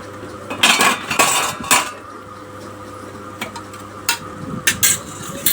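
A spatula scrapes and knocks against a pan as food is stirred on a low flame, loud clattering bursts separated by a soft background sizzle.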